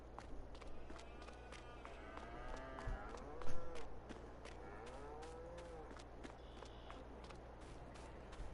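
Cows in a farm simulator game give a few low, moderately distant moos over a busy background of footsteps and shuffling, with soft ambient noise throughout.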